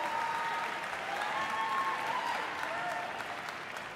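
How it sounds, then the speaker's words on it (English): Audience applause at a high school choir concert in Philadelphia, a steady, full burst of clapping from a large crowd that holds throughout and eases slightly at the end. "You can clap. I think clapping is good."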